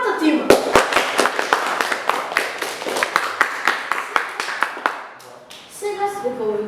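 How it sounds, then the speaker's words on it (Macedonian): A small studio audience claps for both teams on a quiz show. The clapping is sparse and uneven, starting loud with distinct sharp claps and thinning out, with voices talking over the end. "Аплауз и за двата тима."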